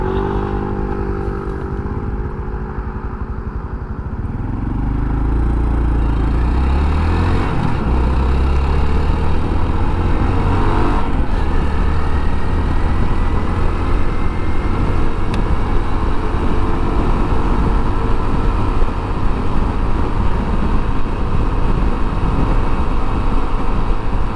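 A Honda Trail 125 motorcycle climbing uphill, its small single-cylinder engine revving up from a lower idle to a loud, sustained, strained drone that holds steady close to the rider.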